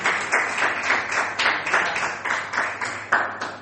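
A church congregation applauds in praise, steady dense clapping from many hands with rhythmic surges, fairly close and filling the room, no talk over it.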